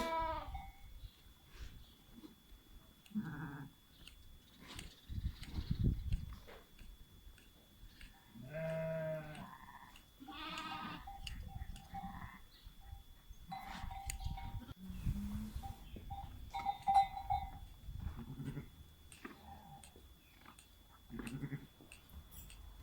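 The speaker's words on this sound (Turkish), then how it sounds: "Kuzularım benim nasıl acıkmışlar yaz." Repeated bleating from several hungry lambs, calls overlapping at close range with brief pauses, mixed with faint chewing and rustling.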